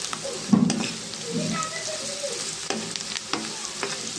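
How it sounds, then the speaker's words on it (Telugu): Chopped onions with a pinch of salt and turmeric fry in a pan for a spicy okra curry, a steady close sizzle broken by a few sharp spatula scrapes and stirs. "బ్రౌన్ కలర్లో వచ్చేదాకా మనం ఫ్రై చేసుకుందాం ఫ్రెండ్స్."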